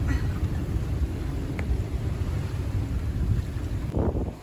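Steady wind, gusting up to 20, buffets the microphone aboard a sailboat off Vancouver Island, with a constant low roar and rushing gusts that swell toward the end.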